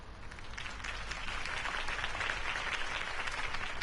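A crowd claps and cheers in sustained applause in the video game Batman: The Telltale Series, steady and dense, moderately loud with no talking over it.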